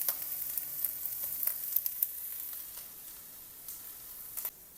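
Peppers sizzling in a pan with teriyaki sauce, giving a soft, steady frying hiss with scattered small pops and crackles.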